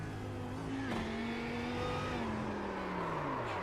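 A Lamborghini GT3 race car in a sim racing game at Sebring, heard from onboard as the engine note holds steady, dips briefly, then slides down while coming off the power through a corner, continuous and fairly close.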